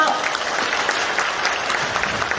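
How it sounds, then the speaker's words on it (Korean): Steady applause from a packed hall of party members welcoming a speaker at a People Power Party members' training event at the Gumi civil defense education center, a dense, even clatter of many hands sustained throughout. "박수로 환영해 주십시오"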